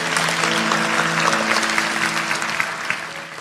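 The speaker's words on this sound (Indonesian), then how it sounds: "Masih tepuk tangan untuk Tuhan." Congregation applause during a church service: dense, sustained clapping from a crowd, even and loud throughout with no voices over it.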